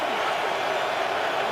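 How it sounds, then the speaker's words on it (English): Crowd noise from Detroit Lions fans fills a football stadium during an NFL game against Washington, a dense, steady roar of many voices heard from a distance, with no clear breaks. "the Lions crowd making some noise."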